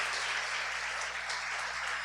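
A church congregation applauds together, a dense, steady wash of clapping that holds evenly throughout, moderately loud and filling the room with no talk over it.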